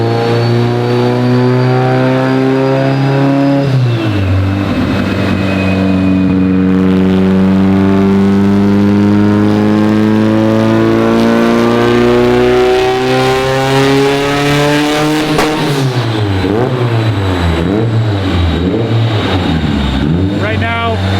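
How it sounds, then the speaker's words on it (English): An Evo 8 engine runs hard on a dyno, its harmonic drone rising steadily before abruptly dropping and stuttering as it hits a 15-pound boost cut, then warbling and surging again. "I'm assuming you just hit the 15-pound boost cut."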